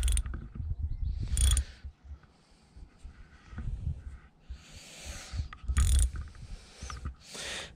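Socket wrench on a long socket tightening a 12mm bolt in a cramped vehicle interior, bursts of clicking ratchet sounds in a few short runs separated by pauses, close and fairly loud.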